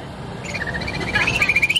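A human voice imitates several little birds chirping to each other, producing thin, high whistled twitters that speed into a rapid warbling trill, close and loud over faint background noise.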